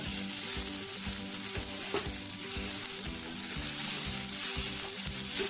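Onions browning in a hot pan for Goan-style chicken vindaloo give a steady, loud, close sizzle with soft rhythmic stirring scrapes underneath and no talking.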